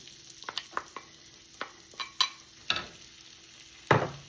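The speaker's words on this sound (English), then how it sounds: "now that the butter's melted, we're going to saute a large onion" A large onion sautés in melted butter with a soft background sizzle, broken by a series of distinct scraping and stirring knocks of a utensil in the pan, spaced irregularly and loudest near the end.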